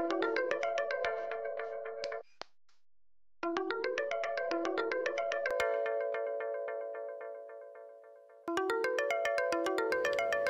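A phone ringtone playing loud and clear, a bright repeating melodic tone pattern that stops briefly, resumes, fades slightly, then comes back at full volume.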